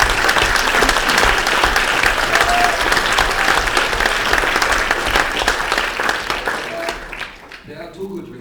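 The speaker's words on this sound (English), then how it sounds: "I think they deserve a special applause" Loud, full-room applause from a Silver Rose Awards 2013 audience, dense continuous clapping that holds steady for several seconds, then tapers off and fades out at the end.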